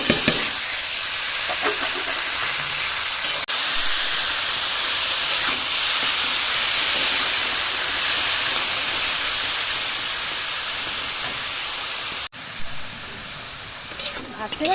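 Potatoes with grated papaya fry in a pan with a loud, continuous, close sizzle and hiss under steady stirring, with brief breaks in the tone.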